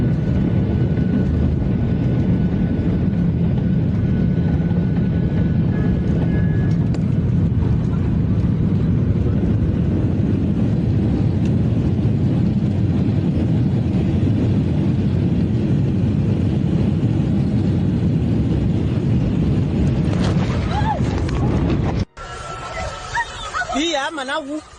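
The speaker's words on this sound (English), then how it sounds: "The Boeing 737 had trouble stopping during landing due to poor weather" Continuous loud rumble of a Boeing 737 landing and braking in poor weather, a steady roar that cuts out abruptly near the end before a short stretch of quieter sound.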